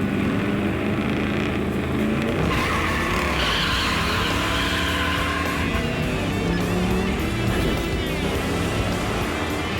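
Restored 1969 Camaro Z28 racing at a track, its loud engine roaring continuously with sweeping pitch changes and a hint of tire noise, steady and dense throughout.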